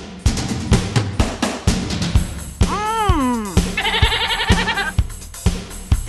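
Sheep bleating in a wavering, pitch-bending cry near a motorcycle with a sidecar, mixed with a rapid warbling animal call and repeated thuds, all loud and close.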